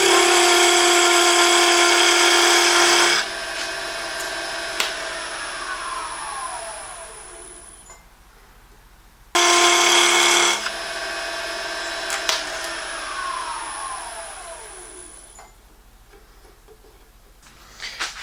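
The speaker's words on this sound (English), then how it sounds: "I'm going to use my parting tool to set the depth of that one spot" A wood lathe turning a tool handle, with a parting tool setting the depth of one spot: a loud steady whine runs, cuts off and winds down, then starts again and spins down once more.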